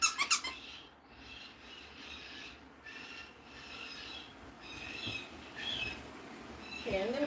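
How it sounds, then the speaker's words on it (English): A squeaky squirrel toy squeaks in a series of repeated, fairly close, high-pitched chirping squeaks with a few sharp squeals at the start and end, on a rainy day of indoor play. "Ah, squeaky squirrels."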